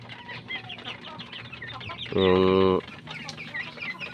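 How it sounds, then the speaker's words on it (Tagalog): Farm chickens cluck and chatter steadily close by, with one louder, drawn-out tonal call from a hen lasting under a second in the middle. "Ito sila mga kapanok ko."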